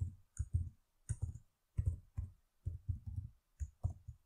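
Keys on a computer keyboard are tapped in short irregular bursts, close and crisp, individual clicks clustering into quick groups separated by brief pauses.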